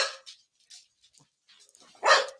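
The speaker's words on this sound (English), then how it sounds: "She was just barking at the fucking door." A dog barks at the door indoors, a few sharp yelps scattered across the moment, ending in one louder bark, with quiet gaps between and no talk.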